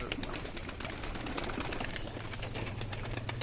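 Desi giribaz pigeons on a sunny house rooftop coo in low, soft tones against steady background noise. The cooing grows clearer toward the end and is moderately near, with no voices.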